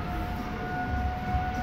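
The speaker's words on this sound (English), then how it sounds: "Wednesday siren going off test" Civil defense siren sounding its weekly Wednesday test, a steady sustained tone heard from a distance over a low outdoor rumble, with no voices.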